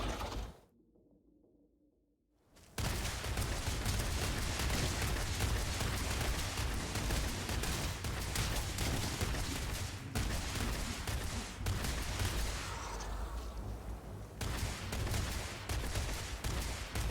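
Heavy gunfire in Starfield: after a brief quiet dip, a dense, loud, sustained barrage of shots and battle noise erupts and continues without pause, a few sharper cracks standing out.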